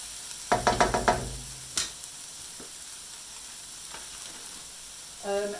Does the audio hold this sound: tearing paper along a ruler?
no